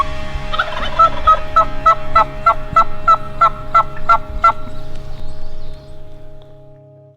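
A wild turkey gobbler gobbles loudly nearby in spring woods, a rapid, rhythmic burst of about a dozen throaty pulses that rings out clearly and then fades.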